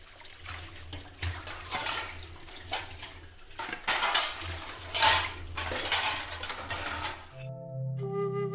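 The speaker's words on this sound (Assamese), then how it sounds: "সেইকাৰণে মৌজাদাৰ ভায়েকে বাচন ধুইছে" Dishes get washed under running water, with splashing, trickling and occasional clinks of pots and utensils rising and falling before abruptly stopping, giving way to a brief musical tone.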